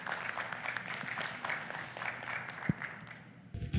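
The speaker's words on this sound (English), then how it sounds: "Round of applause." Scattered applause from a conference audience welcoming a panelist to the stage, a soft, distant, dense patter of many hands that holds steady before thinning out near the end.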